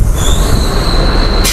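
An empty late-night local train pulls into Galsi railway station, its wheels letting out a loud, sustained high squeal over heavy rolling rumble, close by, with no voices.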